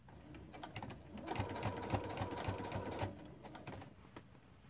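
A sewing machine stitches appliqué through a thick quilt, giving a rapid, even mechanical chatter that speeds up through the middle and then slows, close by but fairly quiet.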